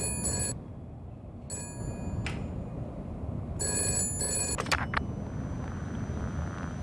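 A telephone rings in the video game Shadows of Doubt with three bright, trilling bursts separated by short pauses over a low background hum, followed by a brief click.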